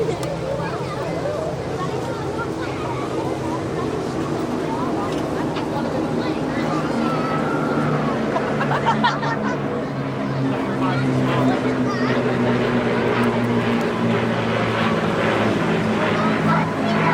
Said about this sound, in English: 1 Griffin, 5 Merlin engines.